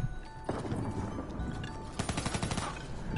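Gunfire from a Call of Duty zombies mode, with rapid bursts of shots crackling over a busy in-game background, clustering densely toward the end.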